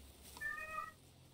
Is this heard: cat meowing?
yes